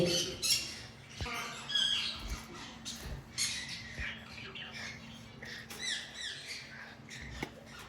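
Red factor parrots, sunconures or ringnecks, give repeated harsh squawks and shrill calls in scattered bursts over a steady low hum, loud and close.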